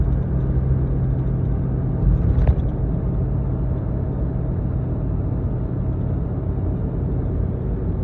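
A Ford 6.7L Powerstroke diesel truck with a BD Diesel exhaust brake engaged while heading toward a hill gives a steady, loud rumbling drone heard from inside the cab, with one brief click partway through and no talk.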